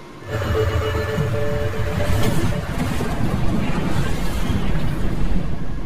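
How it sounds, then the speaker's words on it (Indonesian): A bomb explodes inside a spacecraft in a science-fiction film, carrying a steady, loud, rumbling blast that roars continuously for several seconds with dense low-end energy. "bom di dalam pesawat meledak bersama dengan Troya di dalamnya"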